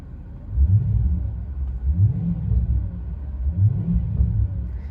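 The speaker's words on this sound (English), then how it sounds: "I'm not going to rev it any more than that because the engine's not fully warmed up." Audi S5 with a 4.2 V8 engine, not yet fully warmed up, rumbles with repeated deep revs rising and falling at close range, steady and loud without any talking.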